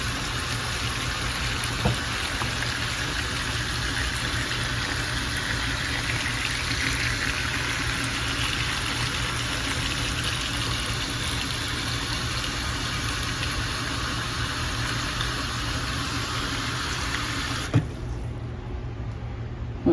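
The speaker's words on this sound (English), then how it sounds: "just at the side of the pot, we'll add in water to begin cooking our" Water pours steadily into a cooking pot of turkey wings, a continuous rushing stream with a low hum beneath that cuts off near the end.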